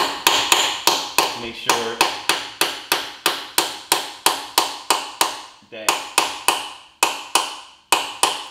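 Rapid, evenly spaced metallic hammer taps driving a quarter-inch stubby socket onto a bolt on a BMW E90/E92 manual transmission, loud and close, steady rhythm with a couple of brief pauses; a voice speaks briefly over them.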